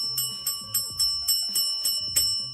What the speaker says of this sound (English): I got the bell back. The Welcome bell's to back.